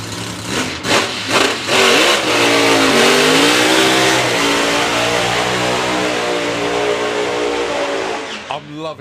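A Pro Modified drag racing clutch car idles with a loud, rough, lumpy engine note, then blips and revs repeatedly before holding a sustained high-revving roar, with an announcer talking over it.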